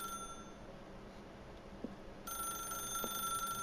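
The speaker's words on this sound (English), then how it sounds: "If you can truly place your faith in another, then pick up the phone." A telephone rings in The Stanley Parable, a thin, steady electronic tone holding over a low background hum, with a brief tick or two partway through, no voices present.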